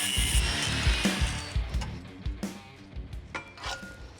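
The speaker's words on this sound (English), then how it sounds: "We'll use a cutoff wheel to make quick work of our tacks." A cutoff wheel grinds through welded tack points on Jeep suspension mounts, producing bursts of harsh, close cutting and scraping that rise and fall in uneven pulses, with no voices.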